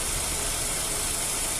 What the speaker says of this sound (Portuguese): E o motor aqui, ó, aparentemente, ó, tá um reloginho